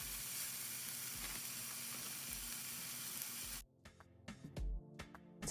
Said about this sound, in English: Get your pan very hot on high heat with olive oil. Add the steak when it's very hot.